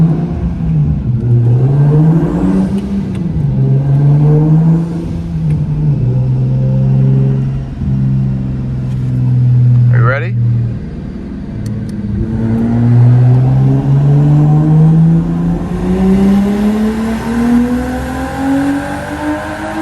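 Car engine with boost creep being revved up under boost, a loud, close drone climbing in pitch, dipping, then rising again in long sustained pulls with a whirring note on top.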